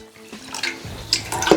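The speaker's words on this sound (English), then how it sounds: "In goes the water." Water splashes and gurgles into a rice cooker pot of rice for making rice wine, a close, uneven pour with bubbling bursts and rising sloshing.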